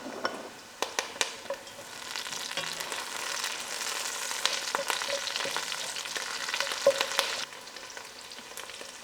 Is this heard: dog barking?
no